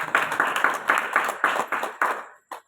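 Congregation at a Calvary Preeti Ministries church service in Bidar clapping loudly in a steady rhythm, about ten strong claps in a row, then a short pause and one final clap.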